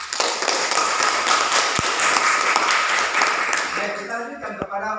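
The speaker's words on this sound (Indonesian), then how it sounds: "Kamu kasih aplaus dulu buat teman kamu." A classroom of students claps for a classmate, a dense burst of applause that fades out near the end, leaving a few scattered claps and voices.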